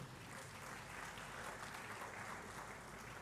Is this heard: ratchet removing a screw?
no